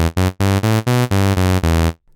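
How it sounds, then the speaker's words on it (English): A buzzy, bright synthesizer saw wave from an initialized preset plays a series of eight short, evenly spaced sustained notes, loud and dry, then stops. "We're starting from the initialized preset, which sounds like this."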